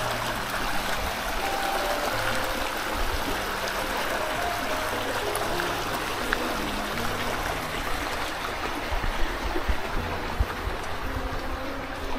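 A stream flows steadily nearby in Andes, New York, a continuous rushing babble of water with no voices, constant in level throughout.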